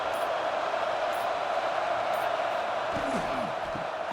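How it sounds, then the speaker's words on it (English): A stadium crowd at a football game roars in a sustained, loud wall of noise that holds steady throughout, with a commentator's voice briefly cutting through near the end. "And here comes the noise. This crowd is trying to inspire this defense to make a big red zone stop"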